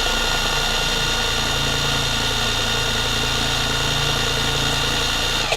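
A Kamolee DTW285 cordless impact wrench runs freely at its first speed setting, giving a continuous close, even motor whine with no pauses.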